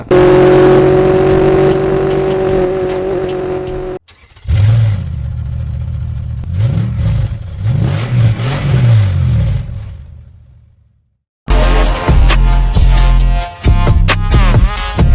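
Bajaj Pulsar NS400Z motorcycle engine revving and accelerating loudly up close, with a sustained rising drone, a brief gap, then rhythmic surging revs and a hard final burst.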